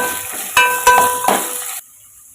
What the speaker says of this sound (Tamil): சேர்த்து இதையும் நம்ம கொஞ்சம் வதக்கி விட்டுக்குவோம்